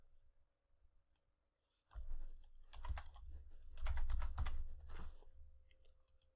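Computer keyboard typing while working in Autodesk Inventor, a short burst of quick, quiet clicks and key taps after a brief pause, close and alone.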